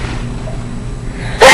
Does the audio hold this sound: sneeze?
yes